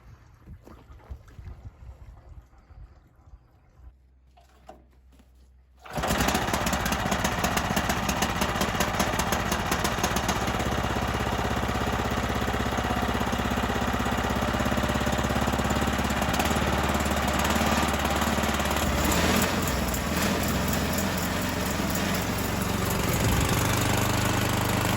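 A new sawmill's gas engine on an off-grid property is quiet at first, then catches after a few seconds and settles into a loud, steady, close running drone that continues to the end.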